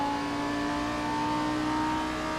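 Steady race car engine drone from Assetto Corsa, a Lamborghini and a Mercedes battling into a turn, holding a continuous loud whine with no talk.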